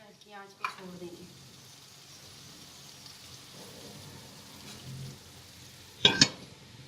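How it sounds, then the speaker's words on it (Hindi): Chicken macaroni masala with peas frying on a low flame gives a faint, soft sizzle. Light stirring scrapes sit beneath it, a voice is heard briefly at the start, and a pair of sharper clanks comes near the end. "इसे अच्छे से मिक्स करके और थोड़ी देर हल्की आंच पे छोड़ देंगे।"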